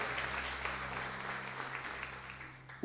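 Church congregation applauding during a sermon, a steady wash of many hands clapping at moderate distance with a low background hum, no voices over it.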